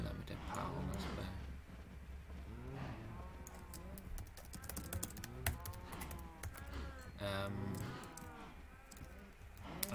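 Cows moo in the video game Minecraft, drawn-out low calls repeating over a steady in-game background, with several overlapping moos from nearby animals.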